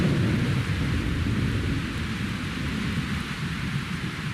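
Heavy rain pours down steadily in the East African savanna with a low rumble of thunder rolling beneath it, a dense continuous wash with no voices.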